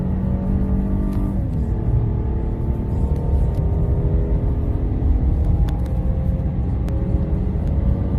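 Car fitted with lightweight wheels accelerating hard in a 0-60 run: a continuous loud engine rumble with rising tones as it pulls through the gears, a shift audible early on, heard from inside the car throughout.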